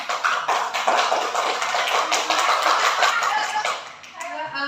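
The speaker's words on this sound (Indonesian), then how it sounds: "Kasih tepuk tangan sama Bu Fitri nih." A group claps continuously for Bu Fitri during a teachers' training session, the dense, steady patter of many hands filling the room before tapering off near the end.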